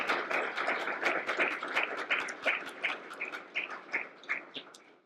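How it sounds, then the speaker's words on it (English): A crowd claps in a round of applause for special guests at a memorial highway dedication event, with distinct, fairly close claps building briefly and then tapering off. "Can we give a round of applause for all of our special guests?"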